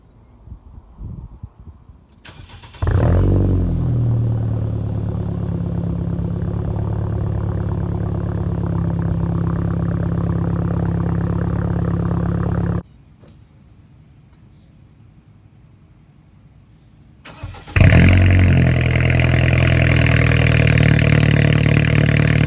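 A BMW F30 328i with the N20 engine starts and holds a loud, steady exhaust drone, cuts off into near quiet, then fires again even louder, two long sustained stretches recorded up close.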